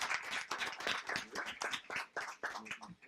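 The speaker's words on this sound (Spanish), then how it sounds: "Y un aplauso para el señor presidente." Brief round of clapping from the audience at a forum welcoming the president, heard as a short burst of quick, fairly faint hand claps from a modest group.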